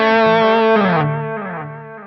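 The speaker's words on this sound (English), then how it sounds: "This is the iset Dumbler pedal" An electric guitar plays through an iSet Dumbler overdrive pedal, giving a warm, mildly driven tone. A sustained chord rings loud and close, then shifts and fades over two seconds with no talk.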